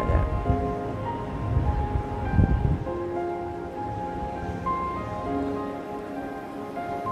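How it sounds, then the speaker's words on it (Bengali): Steady rain patters on a village tin roof, a dense continuous hiss with scattered drop taps, close and moderately loud, with no voices. "টিনের চালে বৃষ্টির রিমঝিম"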